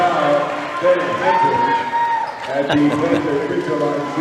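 Home crowd at an Eastmont versus Wenatchee boys high school basketball game roars steadily after a rebound put-back, a continuous loud gym cheer with a commentator talking over it.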